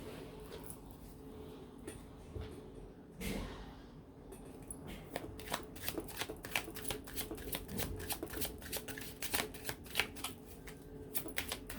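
A deck of tarot cards is shuffled up close, with soft riffling and a rapid run of crisp card flicks building to quick repeated snaps, quiet and alone.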